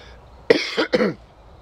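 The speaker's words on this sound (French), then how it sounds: "Attends un instant, je tousse" A single close cough with a quick double burst, fairly quiet, then silence.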